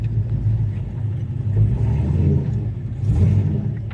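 A 1983 Chevy pickup truck with a 3-inch exhaust rumbles and revs up, deep throaty exhaust roar swelling twice, close and steady throughout.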